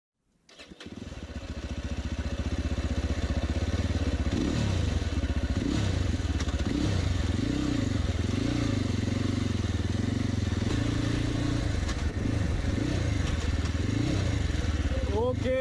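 A ZongShen RX3 Cyclone dual-purpose motorcycle starts up and settles into a loud, steady engine drone with rising and falling revs as it rides off, close to the listener.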